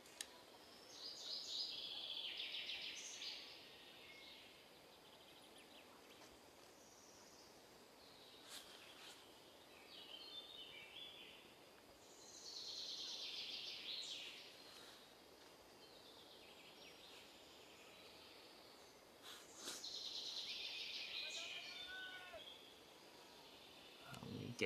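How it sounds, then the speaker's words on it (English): Birds sing in a forest beside a mountain bike orienteering race course, their chirps and trills coming in bursts separated by quieter stretches over a soft insect-like background hum. "today also we get to hear these beautiful sounds of the birds singing in the forest"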